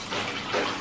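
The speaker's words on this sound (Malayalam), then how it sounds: "ഈ കപ്പിൽ തന്നെ ഞാൻ വെള്ളവും കൂടെ അളന്നൊഴിക്കുകയാണ്" Water poured from a measuring cup into a pressure cooker for carrot rice: a brief, close, splashing pour lasting under a second, with no voices.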